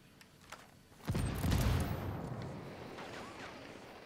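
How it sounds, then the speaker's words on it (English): A grenade goes off in a Ghost Recon Wildlands firefight, a sudden heavy blast after a few faint pops, its rumble decaying slowly over several seconds at moderate distance. "Grenade out!"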